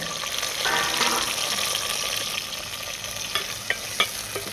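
Tomatoes tossed into onions already frying for a chicken curry over a wood-fired stove, a loud steady sizzle with stirring scrapes and a few sharp spits near the end, close up.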